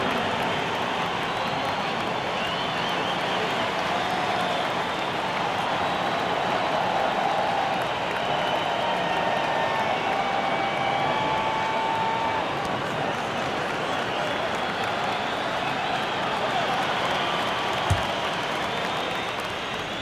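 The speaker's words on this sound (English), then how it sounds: "Please give a big round of applause for your next youth Nets team." A steady wash of crowd noise and applause in an NBA 2K24 basketball game arena, even and continuous from start to finish with no clear pauses.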